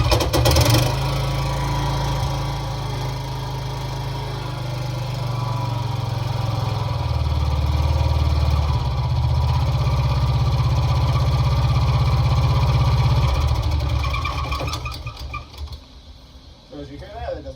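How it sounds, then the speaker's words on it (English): A loose engine runs with a steady low rumbling drone and rough shaking vibration, loud and close throughout, before the sound drops away near the end as it winds down. "the engine is loose, and it's shaking more or less when you start it"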